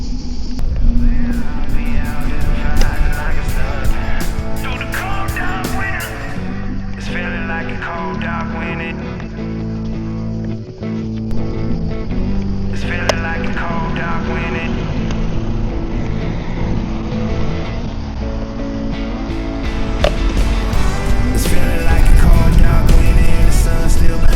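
A NAVEE ST5 MAX electric scooter is ridden through a campsite, giving a close rumbling ride noise with wind and road bumps that swells and fades with speed.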